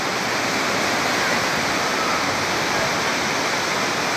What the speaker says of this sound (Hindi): ये बहता पानी देखें आप